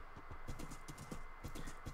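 Horse hooves clip-clop in Minecraft, a quick, steady run of light hollow knocks in an even trotting rhythm, faint and close, continuing throughout.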